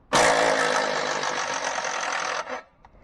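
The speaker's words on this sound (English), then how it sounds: "Just got it on the impact here, and I'll impact that right out." An impact wrench spins a front control arm nut on a 2007–2012 Hyundai Santa Fe, one loud, continuous buzzing rattle lasting about two seconds before cutting off abruptly, close up with no speech.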